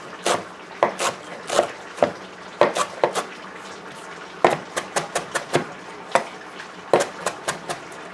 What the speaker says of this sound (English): So we're just going to do a little chopping.